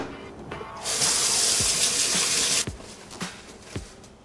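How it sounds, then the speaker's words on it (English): A kitchen sink tap gushes for a couple of seconds while hands are washed, a loud close hiss of running water with soft splashes and clunks before and after it shuts off. "the first step to any great meal is washing your hands."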